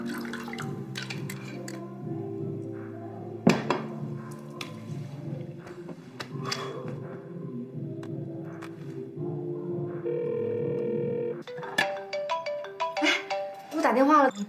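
A phone ringtone plays repeatedly for an unanswered call, a melodic electronic pattern repeating over several seconds with small bumps and a rising burst near the end.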